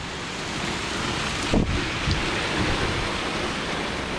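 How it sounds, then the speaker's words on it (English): Steady, dense downpour roaring continuously, with a brief thump or rumble partway through; loud and enveloping, no voices. "I thought it was raining too much before. Take a look at it now."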